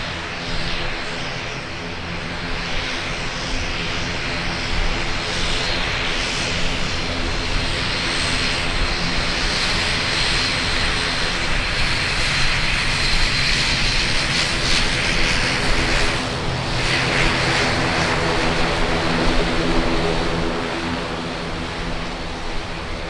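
Propeller aircraft engines drone at Auckland Airport as a plane on the Napier route operates nearby, a loud, continuous roar that holds steady for over twenty seconds.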